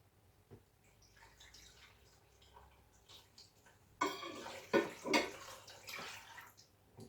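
Water poured into a blender jar holding watermelon and orange pieces for summer juice, a splashing pour starting midway and running a few seconds after quiet kitchen handling noises.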